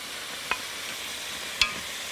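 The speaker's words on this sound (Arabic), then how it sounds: "هبتدي بقى هنا احط على الكلاوي والقلوب المشروب" Kidneys and hearts sizzling steadily in a pan while cooking Egyptian-style offal, with a constant frying hiss and two short sharp crackles as liquid hits the hot pan.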